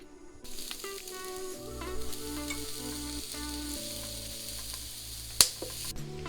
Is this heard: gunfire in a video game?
no